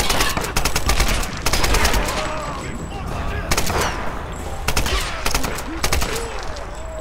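Bursts of rapid gunfire in the video game Tomb Raider crack repeatedly over a dense, noisy backdrop, with several loud volleys spread across the clip.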